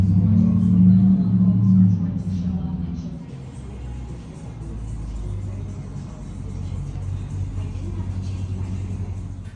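A car pulling up at a vehicle inspection shop: a loud, close engine rumble that eases to a steady lower drone of idling and movement.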